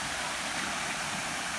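An artificial waterfall beside a hotel children's pool at the Riu Touareg on Boa Vista, Cape Verde, a steady close rushing splash of falling water with no break.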